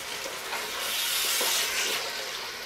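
Tomato paste being stirred into a simmering chickpea curry, a soft steady scraping and sizzling hiss from the pot, close and continuous with no talking.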